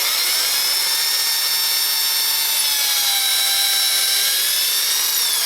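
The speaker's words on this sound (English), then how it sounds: "when I'm drilling beyond the 3/4 of an inch, I'm drilling into the edge of the drywall" Power drill boring into the edge of drywall beside a door frame, a loud, sustained high whine with steady tonal harmonics that sag slightly in pitch midway as the bit bites, with no talk.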